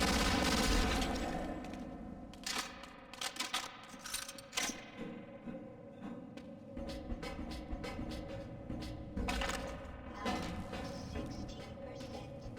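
Enemy gunfire in Half-Life sounds as scattered rapid shots and clinking impacts amid ongoing game noise, fairly quiet and irregular, with brief bursts throughout; a voice speaks over parts of it.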